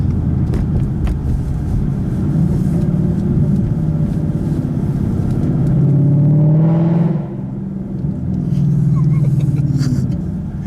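A 2015 Ford Mustang GT's exhaust rumbles deeply from inside the car, swelling as the engine revs up in second gear, then dropping back to a lower drone after a brief lift-off.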